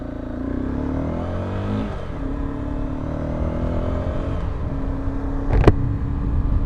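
Honda CBR 250 motorcycle engine revving while riding, pitch climbing through gear changes with a steady close rumble and a sharp clatter near the end.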